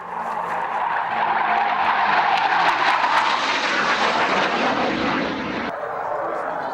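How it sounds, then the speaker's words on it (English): A Hawker Hunter jet flies over the airfield at Tangmere during an airshow display, a loud continuous roaring rush that swells to a peak and then fades as the aircraft passes. "The sight and sound of a Hunter flying over Tangmere must have brought back memories for the former pilots"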